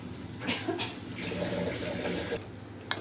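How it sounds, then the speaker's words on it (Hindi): Two cups of water poured into a pan for cheesy chicken pasta, a steady faint splashing stream running for a few seconds in a home kitchen, with no voices. "तो अब हम इसको इसमें 2 कप पानी डालेंगे"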